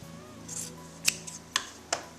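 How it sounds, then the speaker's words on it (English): Scissors cutting fabric for a doll-sized jean skirt, with three or four crisp, separate snips close up over a quiet background. "don't be nervous to cut your skirt out"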